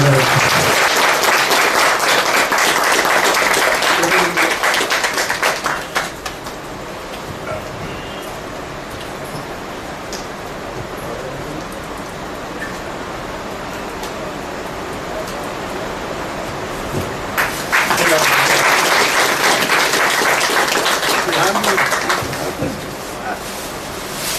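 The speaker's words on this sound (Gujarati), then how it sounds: "આપણે બધા તાળીઓના ગજારા છે." At a satsang, an audience breaks into loud, dense applause that fades into a quieter stretch of room noise and low murmuring, then rises again into a second burst of clapping.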